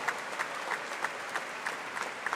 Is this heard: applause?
yes